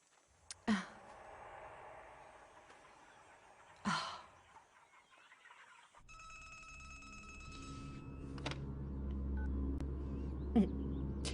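A phone number is dialed with a series of short electronic tones heard close and alone, following two sharp breathy sounds earlier, with a low background hum building underneath.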